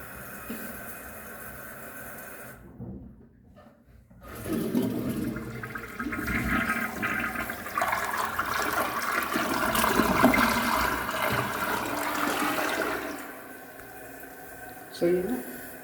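A D&D Valen/Klipen toilet flushes with a loud rush of water that swells, then settles into the steady hiss and trickle of the tank refilling, with a short gurgle near the end.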